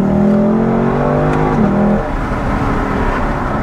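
Lexus LC500 engine revving hard under acceleration, a loud, close, throaty roar whose pitch climbs and then drops at a shift before settling into a lower steady drone.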